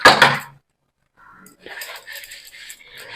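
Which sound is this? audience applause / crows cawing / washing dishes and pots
washing dishes and pots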